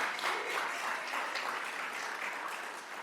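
An audience at a Columbus City Council Black History Month celebration welcomes an honored author with applause. The clapping is soft and distant, and it holds as an even wash for about three seconds.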